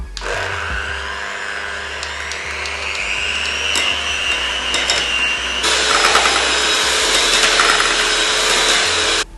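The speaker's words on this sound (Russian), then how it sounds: "взбиваем сперва на низких оборотах миксера, увеличиваем постепенно скорость и взбиваем опять же 2-3 минуты" Electric hand mixer whipping cream with condensed milk, a loud continuous whirring motor that rises in speed partway through, steady and close with no talk.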